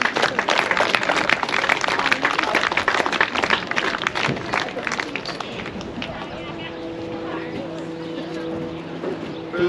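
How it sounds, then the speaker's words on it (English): A crowd at a U19 boys softball championship grand final gives a dense round of applause, which fades and thins after several seconds as a voice continues. "So a round of applause for everyone that did"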